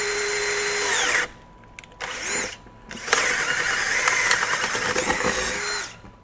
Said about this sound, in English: think in speed 2 it's going to be able to drive this 1-inch auger